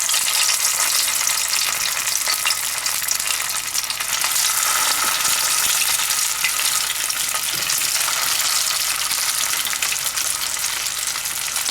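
Fish balls sizzle and crackle in warm oil at medium-low heat, a steady, dense frying hiss that stays loud and constant throughout with no talking.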